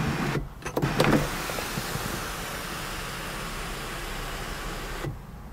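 The electric sunroof of a 2015 Mazda6 GT, a sliding and tilting roof panel, runs with a steady motor whir inside the car for several seconds, then stops.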